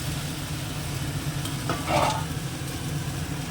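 Potatoes are poured into hot oil and fry with a steady crackling sizzle, a brief louder hiss swelling around the middle of the short stretch.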